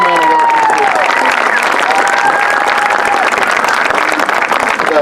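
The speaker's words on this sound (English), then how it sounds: "So please give them a round of applause." Loud, sustained audience applause and cheering for a high school marching band's staff at an exhibition, a dense crowd of clapping with a few whistles or tonal calls rising above it.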